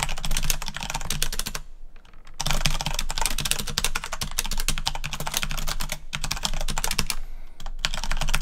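Code is typed on a computer keyboard in fast, continuous bursts of close keystrokes, with a few brief pauses between runs and no speech.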